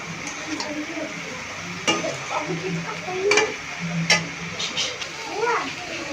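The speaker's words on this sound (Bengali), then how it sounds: "আমি একটু ভালোভাবে নেড়ে নিচ্ছি" Kolmi greens (water spinach) frying in a pan and being stirred, with soft sizzling and a few sharp scraping clicks of the spatula, close up, alongside faint background chatter.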